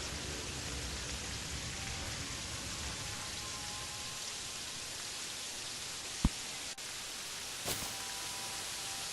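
Rain in the video game Terraria falls as a steady hiss of static-like patter, soft and continuous, with a couple of faint sharp clicks near the end and no talking.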